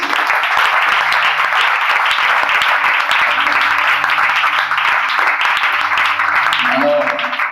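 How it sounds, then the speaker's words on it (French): A church congregation at an evangelistic campaign service claps and cheers loudly and steadily, a dense, sustained wash of applause with scattered voices calling out. "Acclame très fort pour le Seigneur."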